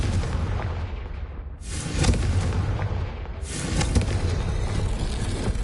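Two loud magical blasts from the Bombarda and Confringo spells in Hogwarts Legacy, each a sudden broad boom with a crackling tail, fired one after the other over a constant low rumble of game ambience.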